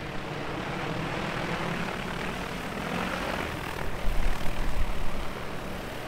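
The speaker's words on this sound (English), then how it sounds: "The drone will land itself, because I have RTK, in the exact same spot." Agricultural spray drone landing itself automatically with RTK guidance, its rotors droning steadily and loudly, then swelling and turning rougher near the end as it touches down.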